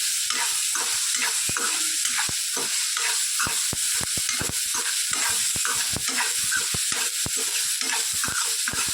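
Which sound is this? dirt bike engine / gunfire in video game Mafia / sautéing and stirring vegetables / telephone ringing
sautéing and stirring vegetables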